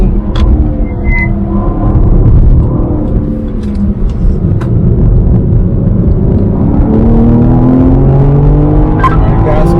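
A BMW M3 Competition xDrive on the Road America race track, its engine droning steadily and loudly with rising and falling pitch as the car accelerates through corners, heard from inside the car.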